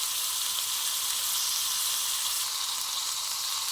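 Prawns fry in hot oil with a loud, continuous bright sizzle, steady and close throughout, with no voices.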